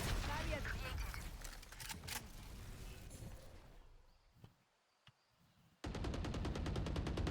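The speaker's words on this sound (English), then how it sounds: "Are they shooting the ice wall?" Video game gunfire aimed at an ice wall in Valorant sounds as loud, dense automatic fire that drops to near silence with a couple of faint isolated shots, then resumes as a rapid rhythmic burst.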